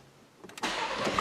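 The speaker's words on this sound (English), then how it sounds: "see if the car will start" A 2019 Ford Edge starts up after a battery replacement: a short cranking burst, then the engine catches and settles into a steady idle, heard close and without talking.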